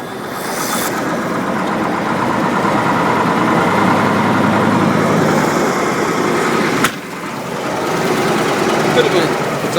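A Caterpillar 3208 diesel engine with an exhaust leak idles after a cold start, giving a close, steady, rough rumble with a fast pulsing texture and a single brief click near the end.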